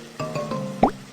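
Oil goes into a pan in a cartoon cooking game for kids making fried rice, a short run of soft plops and bubbly blips ending in one brighter splashy pop, close and clear.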